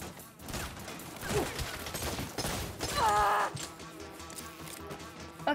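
Gunfire and grenade blasts in the Saints Row video game, a dense run of shots and bursts with a loud mid-clip explosion and crashing debris, over a steady game soundscape.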